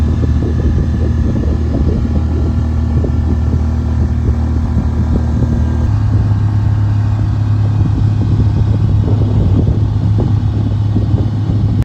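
The engine of a 28-foot sailboat on Lake Michigan is throttled up. A loud, steady motor drone with wind noise shifts to a higher, stronger hum partway through.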